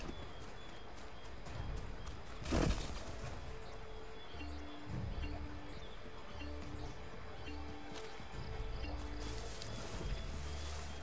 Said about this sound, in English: Get back on the horse, Connor.